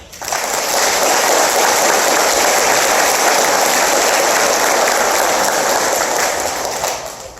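Loud, continuous applause from an audience at an ROTC commissioning ceremony, a dense uniform roar of clapping that fades in quickly, holds steady for several seconds and eases off at the end.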